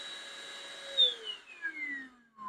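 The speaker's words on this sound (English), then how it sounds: "Press it again, and it has the high. So 2 different vacuum speeds." A 6-in-1 vacuum cleaner with an LED light, its motor whining steadily at high speed and then winding down as the pitch slides lower, running alone without talk.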